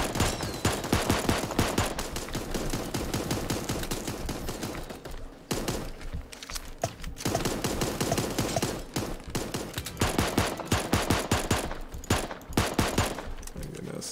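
Rapid, nearly continuous automatic gunfire from Super Animal Royale, loud and close, with sharp repeated shots in long bursts and only brief pauses.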